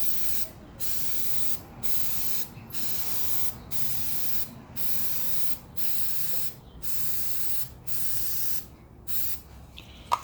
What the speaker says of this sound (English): because you've already sprayed the one side, you don't need a whole lot